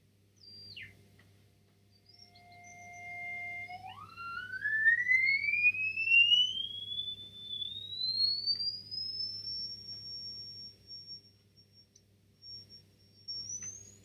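A single pure electronic tone, alone and clean, starts with a brief high blip, then glides steadily upward from low to very high pitch while its loudness swells and fades over about fourteen seconds.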